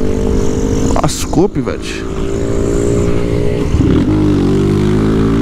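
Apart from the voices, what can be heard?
160 motorcycle engine revving to full throttle with clutch pulled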